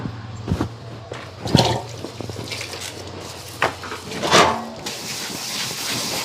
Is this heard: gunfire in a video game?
no